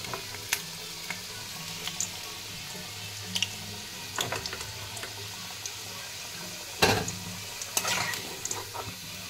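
Potatoes fry in hot oil in a pan. A low, faint sizzle runs steadily underneath, with scattered clinks and scrapes from a utensil now and then, including a louder knock toward the end.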